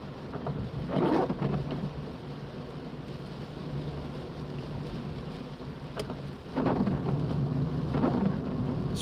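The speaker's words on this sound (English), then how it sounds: "Rain is something else today." Heavy rain pounds a car during a night drive in the UK between Tameside and Wigan, a dense, steady roar with rumbling road noise that swells louder in surges.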